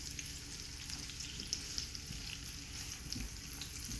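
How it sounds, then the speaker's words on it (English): Food sizzles steadily in a frying pan during home cooking, a continuous crackling hiss at moderate level with no talking over it. "while they're frying up"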